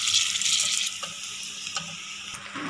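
Ingredients for Kashmiri pulao frying in a pan: a bright continuous sizzle, close and steady, with a few soft stirring knocks and no talking.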